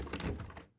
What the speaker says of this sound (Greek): Η πόρτα...